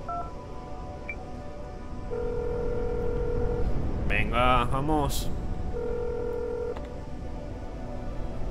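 Phone keypad dialing tones in the snowstorm accident video game, a rapid series of short electronic beeps between longer steady tones, over a constant engine-like rumble, with a brief spoken voice.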